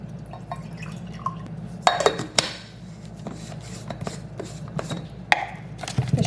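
Milk is poured into a baby bottle in a short run of drips and splashes against glass, with a couple of louder clinks of the bottle, faint and close, without talk.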